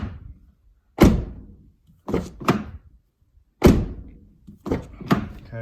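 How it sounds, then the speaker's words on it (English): Car doors shut during an interior courtesy light install, four or five separate solid thunks, some coming in quick pairs, close and clear against a quiet background. "we're going to shut the doors to make sure it's not rubbing"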